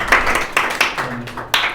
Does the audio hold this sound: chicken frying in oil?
no